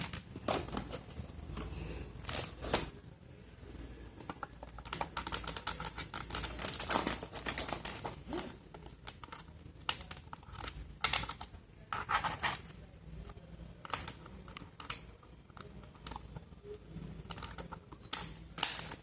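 Plastic clicks and rattles of a Lenovo 100 wireless keyboard's battery compartment being opened and an AAA battery pushed in, a string of close, sharp taps and snaps spread irregularly across a quiet room without talk.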